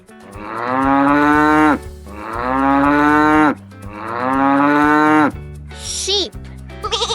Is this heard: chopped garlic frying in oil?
no